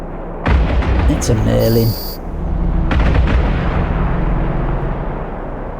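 Spaceship weapons firing during EVE Online combat: a loud burst of booming, explosive blasts and electronic tones, a second heavy report, then a rumbling fade, with someone speaking over it.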